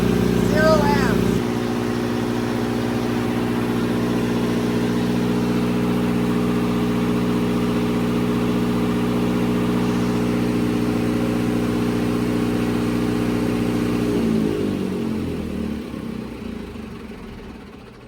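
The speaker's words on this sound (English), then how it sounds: "generator voltage is there, so the generator is still running." A backup generator at a high school drones steadily with a low, even hum for most of the time, then winds down and fades near the end.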